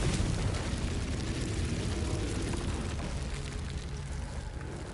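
A loud, sustained blast from the Confringo fire spell in Hogwarts Legacy on PS5: a dense, roaring explosion that erupts at full strength and slowly tapers over several seconds, with no talk.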